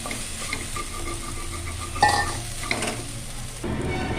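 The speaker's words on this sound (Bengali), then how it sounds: "এবার আমি সামান্য একটু পনিরকে ক্যাপসিকাম, হলুদ গুঁড়ো আর জিরে গুঁড়ো দিয়ে একটু মেখে নিলাম, আলুর সাথে মিশিয়ে দিচ্ছি" Paneer mashed with capsicum, turmeric and cumin powder is stirred into potatoes frying in a pan, giving a steady close sizzle with soft scraping stirs and a brief clink near the middle.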